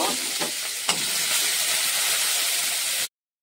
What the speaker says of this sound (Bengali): এবার পেঁয়াজ কুচি, কাঁচা লঙ্কা কুচি আর আদা কুচিটা ভালো করে একটু ভেজে নেব